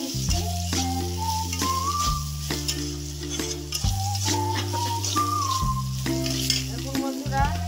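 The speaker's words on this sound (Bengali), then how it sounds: "দিয়ে আমি বেগুনটা ভেজে আগে তুলে নিচ্ছি।" Eggplant pieces frying in a pan with turmeric and salt, a steady sizzle running through the whole stretch beneath a louder melodic music bed.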